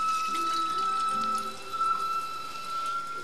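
Water runs steadily from a kitchen tap while beans are being prepared for soup, a close, continuous splashing rush with no talking.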